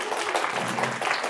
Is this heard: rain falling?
no